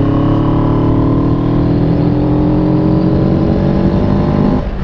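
A CFMoto 700CL-X motorcycle engine revs loudly and close, its droning tone climbing steadily before dropping off at the very end, with no talking.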